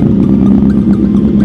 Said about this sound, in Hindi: यो गैंग निकल रही है सुपर बाइकों का गैंग